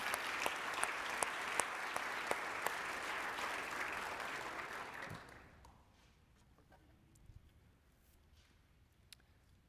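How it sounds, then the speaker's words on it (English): A meeting audience claps in applause, a dense rattle of hands that stays steady for about five seconds, then fades to a few scattered claps and quiet room noise. "let's give them a round of applause because they're putting a lot of work in this"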